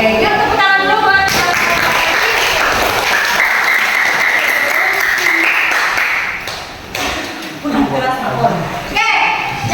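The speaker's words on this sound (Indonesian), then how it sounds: "Oke, yuk tepuk tangan dulu buat" A classroom audience at a teacher training session breaks into applause, a dense burst of clapping that fades after several seconds, with voices talking over and around it.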